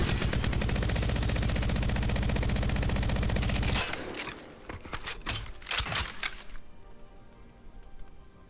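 Devotion energy light machine gun firing in Apex Legends: a loud, rapid sustained burst of fast even shots for nearly four seconds, then a few scattered sharp reports trailing off into quiet.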